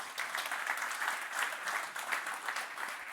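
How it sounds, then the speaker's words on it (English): Steady applause from an audience welcoming a keynote speaker at an evening event on healthier buildings, dense even clapping held at a constant level throughout without breaks. "A random applause for Mr. Tekha Selim, ladies and gentlemen."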